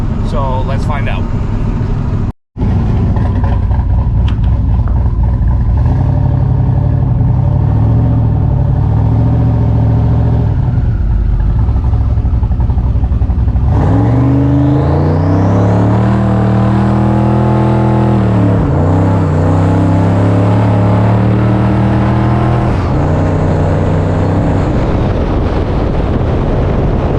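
A car engine revs hard and climbs during a burnout on a wooded road, rising and falling in sustained roaring surges under wind buffeting, with someone talking over it.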